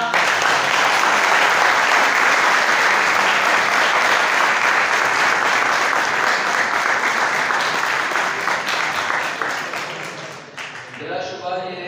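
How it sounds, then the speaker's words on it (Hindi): Loud, sustained applause for children fills a hall for about ten seconds, dense clapping from a crowd that thins toward the end as a voice starts speaking. "जोरदार तालियां"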